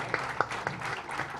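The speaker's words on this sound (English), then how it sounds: "Miss Wahida Rahman, can we have a huge round of applause for her, everyone?" A crowd of guests at a book launch claps in scattered, uneven bursts, a brief round of applause with a few louder individual claps near the start.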